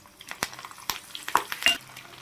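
Short crackling pops and spits as garlic and curry leaves temper in hot oil, several quick bursts close by, with light clinks of a utensil and no voices.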